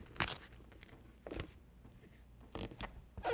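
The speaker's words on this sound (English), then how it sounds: "Give it a little snip." Scissors snip through duct tape while a camera bag is being made, giving a few sharp, close cuts spread out in a short quiet stretch with no talking.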